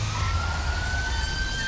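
A police car siren wails in GTA V on a FiveM server, a steady electronic tone sounding loud and close with no speech over it.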